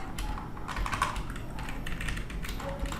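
Typing on a computer keyboard while entering text, heard as a steady run of close, soft key taps over a constant background hum, with no talking.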